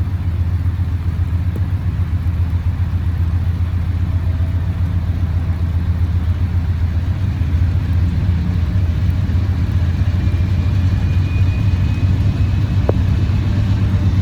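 A diesel locomotive at a B&O signal crossing throttles up, its engine a steady, heavy low rumble that holds loud and even for the whole stretch with no voices over it.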